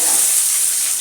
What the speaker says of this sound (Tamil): நல்லா வதக்கி விட்டுலாம் பாருங்கள்